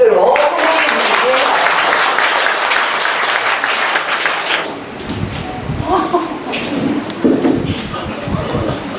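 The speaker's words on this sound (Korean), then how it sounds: "큰 박수로 환영해 주시기" Enthusiastic audience applause at a Korean author's book concert before a reading performance, loud dense clapping for about four seconds, then thinning into scattered claps, shuffling and murmurs.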